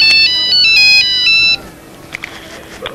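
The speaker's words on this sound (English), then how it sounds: "That's my phone ringing." A telephone rings in a driving school office with a bright, loud electronic trill in a few repeated bursts. It stops abruptly, and quiet room noise with small clicks follows.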